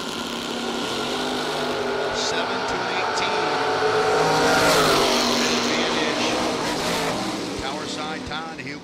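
Drag race between a '62 Falcon and a '79 car at a raceway: loud roaring engines building and sweeping past, swelling mid-run then easing, with a commentator talking over the noise.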